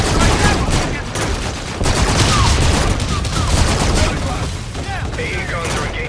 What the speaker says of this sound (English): AA guns are engaging here.